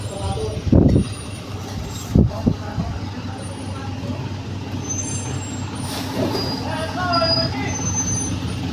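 Garbage collection truck on a residential street, its engine rumbling steadily nearby with sharp hissing air-brake bursts and clanks, while people talk and call out over it.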